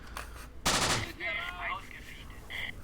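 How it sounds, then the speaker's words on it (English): Gunfire in the Close Combat video game: a dense burst of shots erupts after a quiet start, followed by softer distant firing and game effects as battle continues on a hill. "In fact, we're already firing on them over here."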